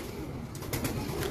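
A Sialkoti pigeon gives a short soft coo, faint and brief over a low background murmur.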